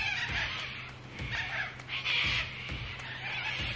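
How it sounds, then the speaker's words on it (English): Loud bird calls, crow-like caws, repeat through a hot summer morning outdoors, with a dog nearby, layered over a steady low hum. "Those birds are so loud."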